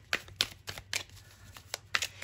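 Tarot cards being shuffled in a quick series of crisp, close riffling snaps, about eight sharp bursts in a short span with no talk.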